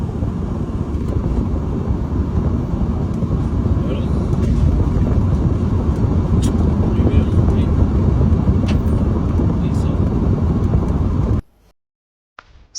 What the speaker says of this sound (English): This great landing from our first officer.